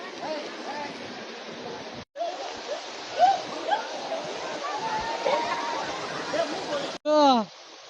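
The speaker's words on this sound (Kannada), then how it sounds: "ಅಂಥ ರಹಸ್ಯವಾದ ವಾಟರ್ ಫಾಲ್ಸ್ ನೋಡಿ ಗುರು" Kallathi Giri falls pours in a steady, broad rush of water, close and continuous, with people talking over it and a short break near the end.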